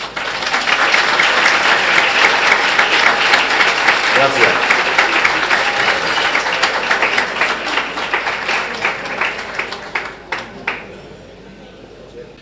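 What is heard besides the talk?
audience applause for Rocío Jurado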